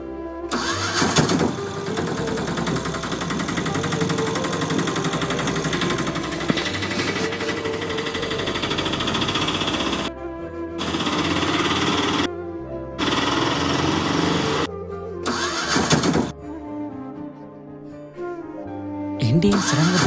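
A vehicle engine starts and runs with a loud, rough mechanical chatter, then cuts out and restarts in bursts separated by short silences before stalling, with background music throughout.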